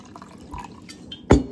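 Water, about three cups, is poured over rice in a home kitchen before cooking. Quiet small drips and clinks lead into a brief, close splash of liquid near the end.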